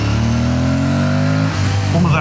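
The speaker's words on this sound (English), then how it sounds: "it picks up all of that amazing induction honk that this bike does so well" Motorcycle engine revving hard with a deep induction honk, a loud rising roar with climbing harmonics that then drops off and picks up again, captured close with no talk over it.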